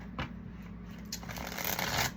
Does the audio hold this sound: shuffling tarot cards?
yes